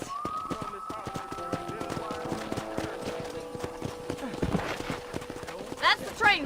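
Hooves of a horse clip-clopping through a Red Dead Redemption frontier town, a dense, steady run of hoofbeats heard beneath people talking throughout.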